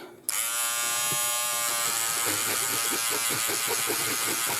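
An ear and beard trimmer switches on with a sharp click and settles into a loud, steady electric buzz close by, with faint rhythmic variations as it is moved around.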